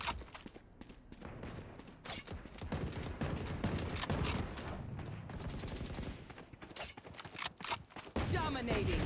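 Rapid gunfire in the shooter game Valorant, repeated loud bursts and rattling shots close up, with game sounds and some voices mixed in underneath.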